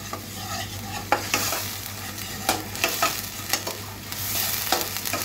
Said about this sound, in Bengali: দিয়ে দিচ্ছি 1/2 চা চামচ পরিমাণ রসুন বাটা। একটু হালকা কষিয়ে নিব।